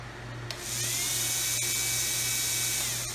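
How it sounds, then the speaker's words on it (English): A powerful charcoal gasifier auger driven through a 90-degree gear reduction spins up with a sharp whine, then holds a steady high-pitched motor hum over a low drone for a few seconds. "It's a very powerful auger."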